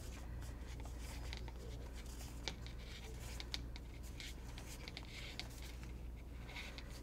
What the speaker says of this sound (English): The next step that you do is you fold down the edge right here